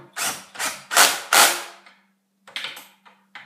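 A DeWalt drill with its clutch set to 17 drives screws into a torque converter on a Predator engine, with four loud ratcheting bursts followed by quieter, shorter clicks from the clutch.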